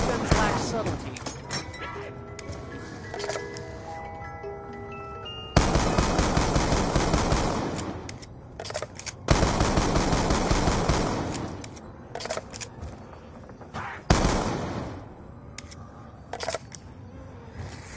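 Shotgun fire in the zombies map Buried of Black Ops II comes as bursts of loud, harsh blasts in clustered volleys, with game music and effects around them and pauses between the bursts.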